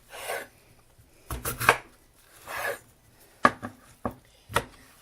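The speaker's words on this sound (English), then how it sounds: "Lay them face down, slice, slice, slice." A knife slices washed russet potatoes on a cutting board for fries, about six or seven sharp, distinct chops in an irregular rhythm, close and clear, with soft scraping between some strokes.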